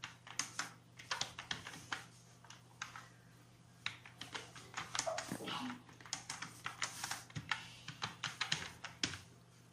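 Fingers tap on a computer keyboard while a channel description is entered, giving quiet, irregular bursts of clicking keystrokes close to the microphone, with no talk over them.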